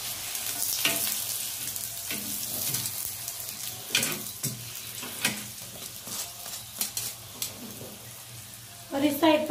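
Aloo gobi paratha sizzling and frying in a hot pan right after being flipped, a steady close crackle with brief louder bursts and a sharper flare of sizzle near the end.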